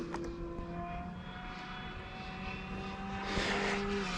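A small E-Flite electric RC airplane at full throttle snapping through a quick turn, its thin motor whine heard from a distance with pitch shifts as it swings around, fairly faint against outdoor background.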